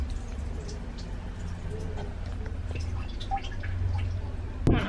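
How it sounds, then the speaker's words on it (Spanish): Water drips in a quiet indoor setting, with soft irregular drops over a low background hum, ending in a brief louder knock. "El ruido del agua me está haciendo mal."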